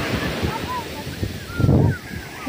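Sea waves washing onto a clean, nearly empty beach, a steady low rush with a swell of surf breaking near the end, steady wind noise throughout, and faint voices in the background.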